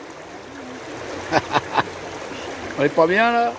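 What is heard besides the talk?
river water flowing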